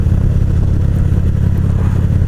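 Motorcycle engine running steadily on a long-distance ride, a continuous loud low rumble with no breaks or voices.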